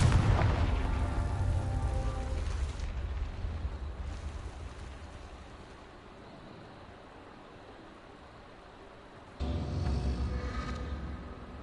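Confringo blasting-spell explosions in Hogwarts Legacy: a loud, deep booming blast that rumbles and slowly fades, then a second burst erupts near the end, with no voices over it.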